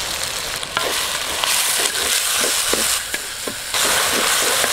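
Chopped tomatoes hitting hot oil with onions for an oyster mushroom masala, steady loud sizzling with scraping stirs of a spoon in the pan throughout, close and continuous.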